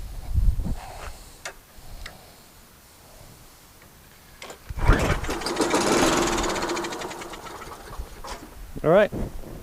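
A Murray lawnmower with a Briggs & Stratton engine, primed with a shot of fuel after an air-cleaner service, is cranked: scattered clicks and handling noises, then a few seconds of rapid mechanical chugging that fades, with a voice nearby.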